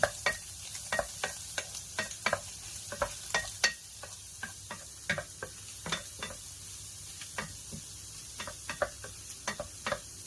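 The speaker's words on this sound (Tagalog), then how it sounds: "Haluin lang po ng mabuti." Spatula scrapes and stirs fried rice with string beans and luncheon meat in a pan, making a run of sharp, irregular clacks and scrapes over a soft, steady sizzle with no voices.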